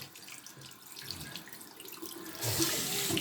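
Water runs from a tap while a Nespresso machine is rinsed, a steady close splashing that grows louder and brighter near the end, with no voices.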